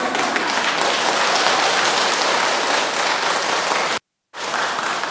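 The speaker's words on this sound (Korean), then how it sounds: "박수도 치려면 확실하게 쳐야 되지." A Buddhist temple assembly applauds in a dense, steady burst at a dharma talk, cutting out abruptly for a moment before resuming just as loud.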